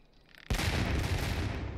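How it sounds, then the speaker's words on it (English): Ship cannons in the Sea Dogs: To Each His Own naval battle let loose a sudden loud boom that rolls into a sustained rumbling, crackling tail. "These guys are so bad at aiming those cannons."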